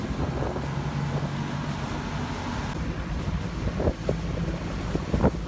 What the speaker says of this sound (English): So since he's driving the boat